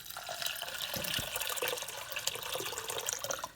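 Water runs steadily into a small pot of rinsed grain for Christmas kutia, a continuous close splashing pour lasting a few seconds with no talking.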